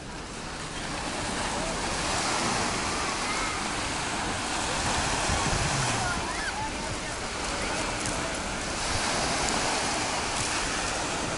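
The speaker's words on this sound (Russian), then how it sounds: "Море такое довольно-таки спокойное." Calm sea washing onto the beach at Adler near Sochi, a steady broad rush of surf with some wind. People can be heard talking over it.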